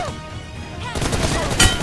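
Gunfire in a shooting video game team deathmatch, a short burst of shots that grows louder and harsher partway through, close, with a sharp peak near the end and some game noise underneath.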